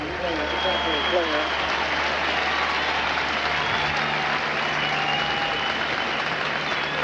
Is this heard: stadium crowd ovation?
yes